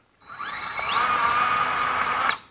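A DeWalt 20V cordless grease gun fitted with a Lock-N-Lube tip runs a steady high-pitched motor whine as it pumps grease. The whine rises in pitch partway through and then cuts off, close and alone without talk.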